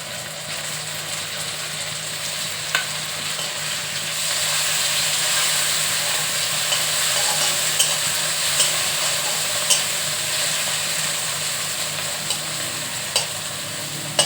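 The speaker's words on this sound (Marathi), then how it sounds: "आता त्याच्यामध्ये मी टोमॅटो टाकते" Chopped tomatoes added to hot oil with browned onions sizzle and fry steadily for egg bhurji, a broad continuous hiss that swells partway through, with faint clicks of stirring and no talking.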